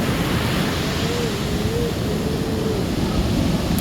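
Steady broadband roar of ocean surf washing onto a beach, continuous and fairly loud, with wind over the microphone and no talking.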